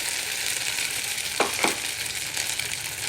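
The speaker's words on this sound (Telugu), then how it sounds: "కొంచెం నెయ్యి ఎక్కువ పెడుతుంది దీనికి. ఈ బ్యాటర్ ఇందులో వేయాలి." Dosa batter sizzles in ghee on a hot pan, a steady close frying hiss with a couple of brief scraping strokes partway through.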